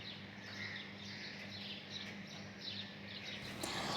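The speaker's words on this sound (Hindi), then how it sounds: "सिर्फ अभी पक्षियों के बोलने की ना आवाज़ें आ रही है।" Birds chirp at dawn outside a home, many small overlapping tweets and calls repeating steadily against a constant low hum, with no voices.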